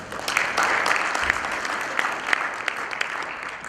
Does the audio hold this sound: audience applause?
yes